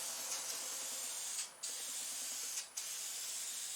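Spray gun coating the body of an '88 Toyota SR5 in a small home shop, a steady close hiss broken by two brief pauses as the trigger is released.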